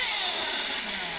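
A vintage HPI MT2 nitro RC truck engine screams at full throttle, a loud, steady, high-pitched buzz that holds through the whole short burst with no talking.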